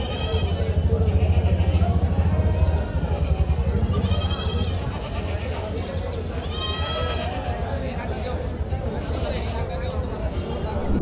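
Goats and sheep bleat at a large, busy livestock market in Maharashtra. Several loud, wavering calls rise above a constant crowd babble, and people talk nearby throughout.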